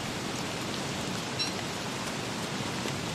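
Heavy rain in Don't Starve Together hisses as a steady, dense wash of noise, continuous and even throughout, with no talking over it.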